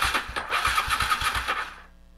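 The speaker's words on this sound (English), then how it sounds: "Well, it's cranking, so we know the starter solenoid works." Engine turns over on the starter, driven by a jumped starter solenoid: a rapid, rhythmic chugging of cranking pulses for about a second and a half, close and loud, then cutting off abruptly without catching.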